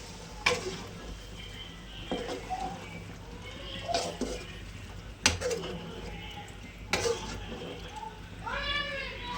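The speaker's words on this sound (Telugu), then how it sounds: "వాటర్ వేసాక కొంచెం మళ్ళీ కలపాలి." A spoon scrapes and stirs chicken curry through a sizzling pan in several separate strokes, close up, with a brief squeaky sound near the end.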